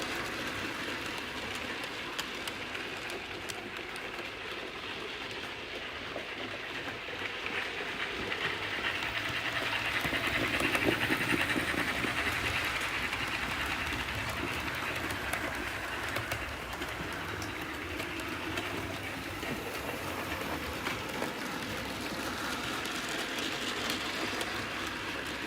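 A sound-fitted model railway engine runs continuously on a layout, a steady rumbling chuff with faint rhythmic clatter, alongside background bird-like cooing and room noise.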